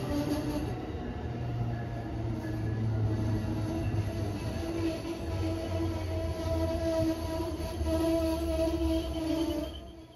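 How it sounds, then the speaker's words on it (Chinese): An Amtrak Northeast Regional train rolls into a station with a steady, loud rumble of wheels and carriages and a sustained metallic tone running throughout. "正点进站，编组为8软座1餐车。"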